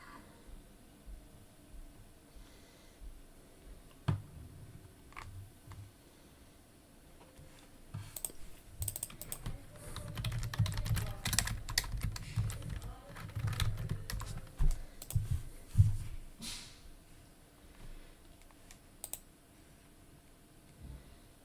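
Computer keyboard keys clack in irregular bursts, sparse at first, then a dense flurry of fast typing and clicks in the middle before tapering back to scattered presses.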